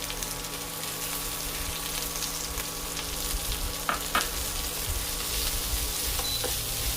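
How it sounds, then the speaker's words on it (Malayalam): Grated coconut with curry leaves roasting in a hot pan for coconut chutney gives a steady soft sizzle throughout, with a few scraping stirs of a utensil partway through and no talking. "തേങ്ങ ഒന്നും ഒത്തിരി മൂത്ത് പോകണ്ട, ഒന്ന് ശരിക്ക് ചൂടായി വന്നാൽ മതി."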